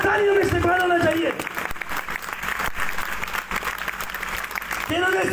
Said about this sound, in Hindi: तालियों में इस्तकबाल होना चाहिए